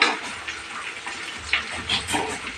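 Dried red chillies sizzle in hot oil in a pan while Tamil tamarind curry (puli kuzhambu) is cooked, giving a steady crackling fry with a few sharper pops.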